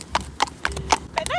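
Ponies out on a hack clip-clopping along, a quick uneven run of hoof strikes on hard ground close by, with a brief whinny near the end.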